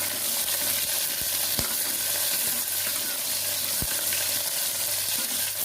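Onions with green and dried chilies fry in a pan with a constant close sizzle. Occasional soft stirring scrapes and two sharp taps of a utensil break the sizzle, with no voices.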